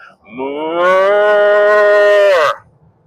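A man cups his hands and imitates a cow's moo, one long loud sustained low call that swells, holds for about two seconds and drops off abruptly, alone with no other talk.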